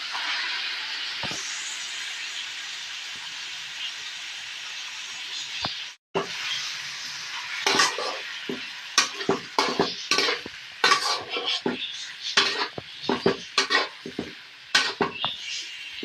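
Squid for adobo sizzles in a pan under a steady hiss while a utensil stirs and scrapes, the clatter starting sparse and turning into frequent irregular scrapes and taps in the second half, close and without speech.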